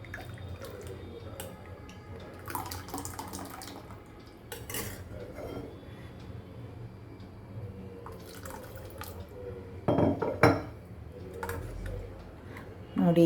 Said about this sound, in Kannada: ಈಗ ನಾನು ನೀರನ್ನು ಹಾಕಿ ಸ್ವಲ್ಪ ನೀರಾಗಿ ಕಲಿಸ್ಕೊತೇನೆ